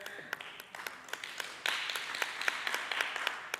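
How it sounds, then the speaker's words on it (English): A small audience at a municipal climate-change plan launch claps, with individual sharp claps at first, then a thicker burst of applause, heard faintly and at a distance. "Do you want to give them a round of applause before?"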